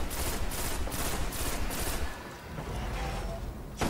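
Rapid gunfire from a sniper rifle in the video game Destiny, a dense run of loud cracking shots that fills the first two seconds, then fades back into continuous in-game battle noise.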